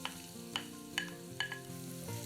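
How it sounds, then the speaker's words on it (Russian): Chopped onion drops into hot vegetable oil in a frying pan and sizzles steadily, with a few sharp crackles and spatters over the continuous frying hiss, with music playing underneath. "На сковороду наливаем растительное масло. Кладем нарезанный лук."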